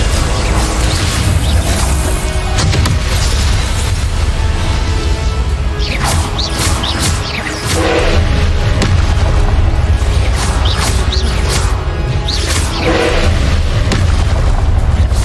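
Repeated Confringo spell explosions from the video game Hogwarts Legacy, loud booming blasts and whooshes bursting over a constant rumbling game soundscape, with several sharp impacts clustered throughout.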